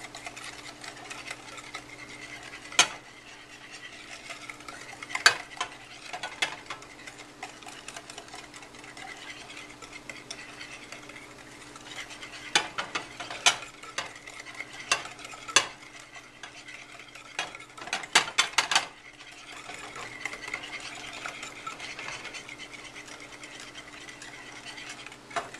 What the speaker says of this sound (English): keep it moving, keep stirring it because you don't want those eggs to cook